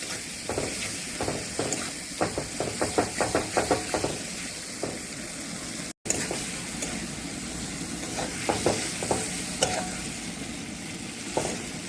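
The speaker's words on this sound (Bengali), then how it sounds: "এই জন্য একটু ভালো করে মশলাটা এখন আমি একটু কষাই।" Spice paste frying in oil in a pan for a chicken curry, with a continuous hissing sizzle and quick bursts of rhythmic spatula scraping against the pan, broken by a brief cut midway.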